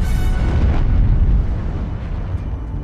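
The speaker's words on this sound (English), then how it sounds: "Within mere seconds, an enormous explosion broke Hood in two parts." The British battlecruiser Hood explodes as a documentary sound effect, a loud, deep, sustained blast that rumbles for about three seconds before slowly fading, with no talk over it.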